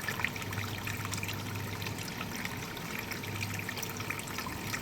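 A creek trickles and flows steadily over its bed, a continuous close babble of running water with no voices.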